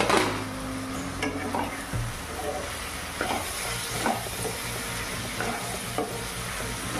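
Onions stirred and frying in a pan for a dried lotte fish and bean mash: a steady, loud sizzle with scraping stirs and a few knocks of the spoon, no voices.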